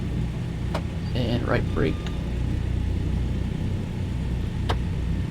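Douglas DC-3 piston engines taxiing in Microsoft Flight Simulator 2020, a steady low rumbling drone held throughout, with someone talking over it and a couple of sharp clicks.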